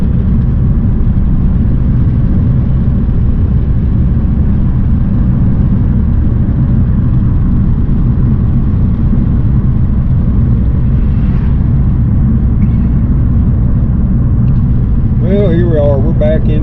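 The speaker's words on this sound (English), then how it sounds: "This road's awful noisy" Continuous loud tire and road rumble inside a car driving down a noisy country road, a steady low roar throughout, with a brief tonal squeal near the end.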